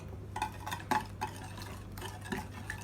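A utensil whisks harcha batter in a bowl as oil goes in, giving soft rhythmic stirring swishes and light clinks over a low steady hum, close and gentle.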